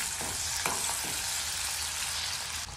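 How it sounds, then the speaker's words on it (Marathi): Garlic, ginger and green chilies sauté in hot oil in a pan for homemade noodles, producing a loud, steady frying hiss with a few light stirring knocks. "थोडा लसूण, हिरवी मिरची परतून घ्यायचं आपण चांगली"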